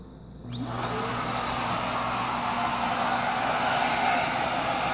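A vacuum cleaner with a mini power nozzle starts up and ramps into a steady, loud, close whine and whoosh of suction that holds evenly to the end.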